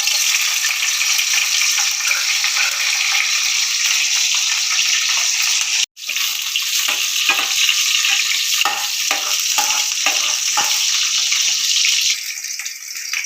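Green chillies dropped into hot oil in a home kitchen fry with a loud, steady sizzle that holds throughout, briefly cut off midway, then continuing with scattered crackles and stirring.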